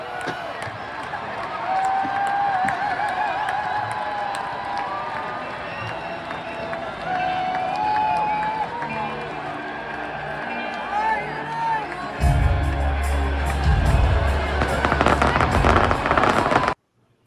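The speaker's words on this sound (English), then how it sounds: "just enjoy 18 seconds of fireworks from the Hollywood Bowl" Fireworks at the Hollywood Bowl crackle and pop continuously amid a busy outdoor crowd murmur, growing into heavier, louder booming bursts toward the end before cutting off abruptly.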